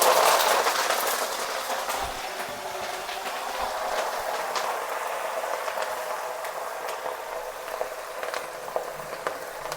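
Snack mixture ingredients, including gram, fry in hot oil for a South Indian Diwali mixture, giving a steady bubbling hiss throughout with scattered crackles and pops and no talking.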